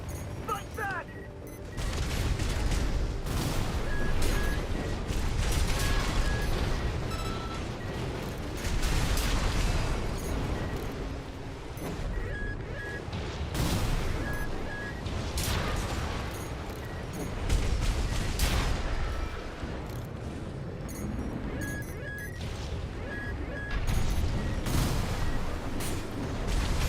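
Artillery blasts and gunfire crash through a mecha video game battle against mass-produced MTs, dense and loud bursts piling up continuously with mechanical clanks, while a game voice speaks over the fighting.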